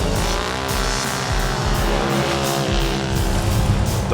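UTV race vehicles at the start line of the 2016 Best in the Desert Parker 250 desert race, with a dense, loud, continuous roar of engines idling and revving close by and no pauses.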